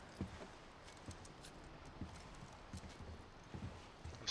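Horses' hooves clip-clop in a scattered, uneven rhythm at moderate distance in The Last of Us, with faint ambient background and no clear neigh standing out.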